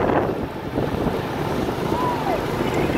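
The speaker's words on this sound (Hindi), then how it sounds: "मोटरसाइकिल पे हवा भी चल रही है" Wind rushing past a moving motorcycle on an open road, a constant loud roaring buffet over the microphone with a low rumble underneath, no voices.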